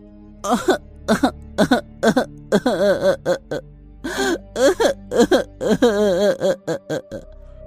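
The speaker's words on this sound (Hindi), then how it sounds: "रात के समय जब वो दोनों सो रहे थे तो इनको किसी के रोने की आवाज सुनाई दी।" Someone cries at night in an animated cartoon, a close, voiced sobbing with wavering, whimpering pitch in short repeated gasps and wails, performed by an actor.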